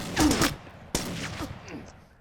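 A few gunshots in Call of Duty Warzone on Nintendo Switch, two sharp cracks with echoing tails, fairly quiet and spaced about a second apart.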